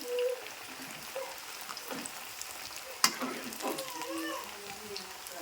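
Onions fry in oil in a pan while being stirred for a gobi 65 dish, giving a soft continuous sizzle broken by scraping strokes of the spoon and one sharp clink.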